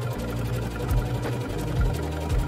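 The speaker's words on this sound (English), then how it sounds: "Now I'm putting on a zigzag stitch over top of the ends so they don't fray." A sewing machine runs a zigzag stitch over the fabric ends of a garment, its motor whirring loud and close in steady bursts with brief pauses between runs.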